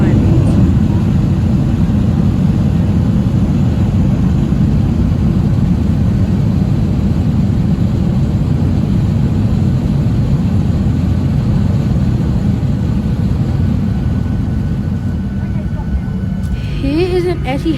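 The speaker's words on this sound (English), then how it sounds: "the landing was pretty smooth, especially for a 737" A Virgin Australia Boeing 737-800 roars through its landing, a loud, steady low engine and air rumble filling the cabin, with faint rattles near the end.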